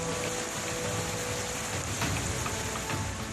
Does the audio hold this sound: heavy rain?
yes